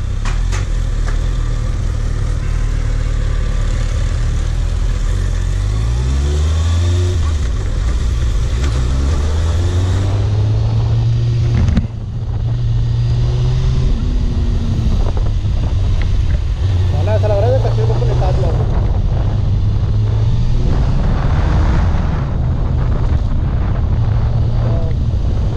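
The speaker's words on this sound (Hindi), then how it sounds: "तो मेरी पहली इनलाइन 4 सिलेंडर की बाइक है जिसकी मैं राइड करने जा रहा हूँ" A Kawasaki ZX6R inline-four motorcycle on the road, its engine note climbing and falling through gear changes beneath heavy, constant wind buffeting on the microphone.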